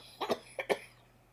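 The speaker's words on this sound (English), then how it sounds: "I'm coughing." Two pairs of short, close coughs from one person, each a quick double burst, fairly faint against a quiet low hum.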